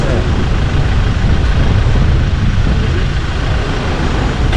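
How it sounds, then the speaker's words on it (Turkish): Strong wind buffets the microphone outdoors on sandy off-road ground, a loud, unbroken roaring rumble that fills the whole few seconds. "Rüzgar sesi."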